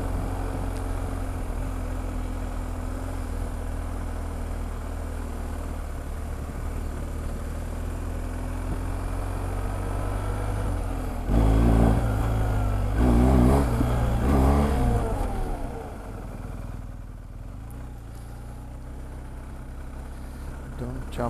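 A motorcycle engine in a parking lot during wheelie practice, idling and then revving in a couple of short throttle bursts, while a person talks nearby.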